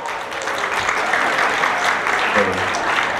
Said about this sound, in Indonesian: Lemes banget Pak tepuk tangannya.